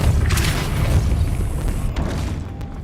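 In Hogwarts Legacy, a Depulso force spell goes off as a short, heavy magical boom with a rumbling low thrust that tapers off within a few seconds.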